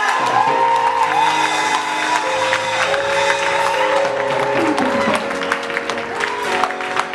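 A church congregation applauds and cheers for the Lord, with steady clapping, whoops and shouting voices filling the hall continuously at close range and full volume.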